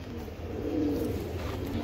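A racing pigeon coos softly nearby, a short low throaty call over faint background noise, with no talk.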